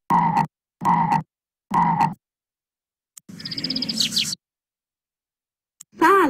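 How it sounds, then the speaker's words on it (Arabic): A frog croaks from a free Android zoo-trip app: three loud, evenly spaced croaks, then a quieter bubbly trill and a brief fragment near the end. "ضفدع،"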